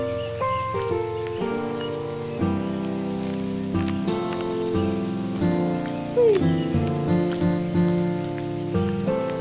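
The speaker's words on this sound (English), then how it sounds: "After I go detour to see how Flower is holding up in the rain" Rain falling in a video game: a soft, steady patter beneath gentle game music with sustained melodic notes.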